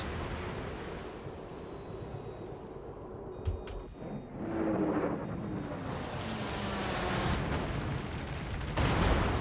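Warship guns firing in World of Warships, with a sharp distant boom followed by rolling, surf-like rumble and ocean ambience that swells louder toward the end.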